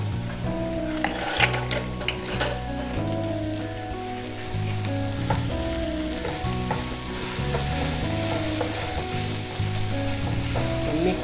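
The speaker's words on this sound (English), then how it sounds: "We mix our onion with oil." Onions stirred in hot oil sizzle and crackle steadily from close by, with occasional scrapes and knocks of the utensil against the pan.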